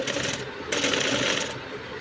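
A sewing machine stitching a gathered frill onto a small child's ruffle frock, its fast needle chatter running steadily and close, with a slight surge in pace partway through.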